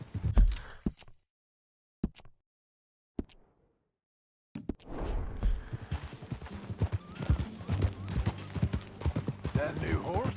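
Horse hooves clip-clop in Red Dead Redemption 2, with a few isolated knocks early on, then a steady run of hoofbeats under game music and voices.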